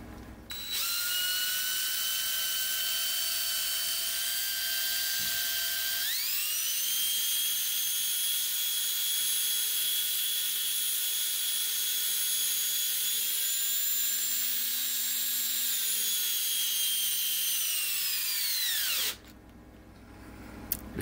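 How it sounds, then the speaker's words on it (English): Stainless steel polished by a power tool running 1000 grit sandpaper on a model ship part: a steady high-pitched drill-like whine that drops in pitch partway as load comes on, sustained near and loud, then cuts out. "This is, as you can see, it's 1000 grit sandpaper."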